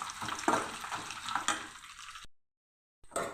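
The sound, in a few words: dried red chillies frying in oil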